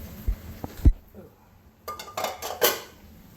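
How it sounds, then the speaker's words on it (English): Cooked sausages tossed with peppers and onions in a pan give a few sharp metallic clanks near the start, then a scraping, sizzling shuffle of food against the pan. The sounds are close and loud. "we're gonna go ahead and toss the sausages just to heat them up"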